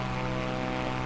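Steady droning hum of a propeller engine on a Corvalis in Microsoft Flight Simulator 2024, heard from inside the cockpit in fast cruise, continuous and even with no speech.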